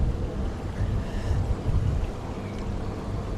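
Heavy wind buffets the microphone on a narrowboat cruising the river Great Ouse, a loud, steady low rumble with gusty swells and faint water wash underneath.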